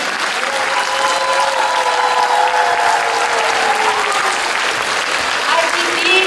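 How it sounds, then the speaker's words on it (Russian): A concert audience at a children's music school choir performance claps in loud, sustained, dense applause that stays steady throughout, with a voice briefly carrying over it. "ваши полные продолжительные аплодисменты нашим замечательным ученикам"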